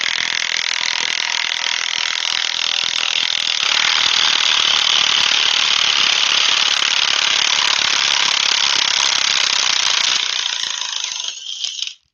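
A DeWalt impact wrench hammers on a bolt in one continuous, loud, rapid rattling burst lasting over ten seconds before cutting off abruptly.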